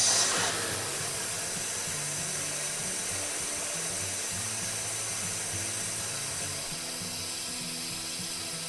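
A StoneAge BTC-100 boiler tube cleaner runs steadily, driven forward and then in reverse, giving a continuous loud hissing, rushing drone with low mechanical hum underneath and no pauses.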